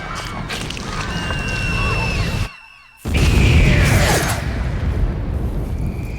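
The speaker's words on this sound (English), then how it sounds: "What is it with people and their sudden explosions brought on by tranquilizer?" An enemy explodes in Metal Gear Solid 3, a heavy boom with crashing debris that cuts off into a brief near-silence, followed by a loud burst and then a dense rumbling tail.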